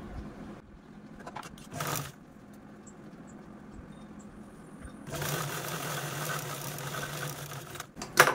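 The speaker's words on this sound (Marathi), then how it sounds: "रॉंग साईडने स्टिच न करता आपण डायरेक्ट राईट साईडनेच स्टिच करून घेत आहोत" A sewing machine stitching old jeans fabric for a wallet runs in two short bursts, then a longer steady run near the end, with quiet pauses and faint handling noises between.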